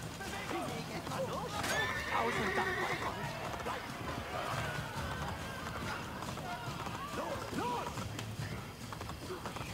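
Horse neighs and gallops in the Assassin's Creed Brotherhood video game, a whinny rising over steady hoofbeats beneath continuous game sound and talk.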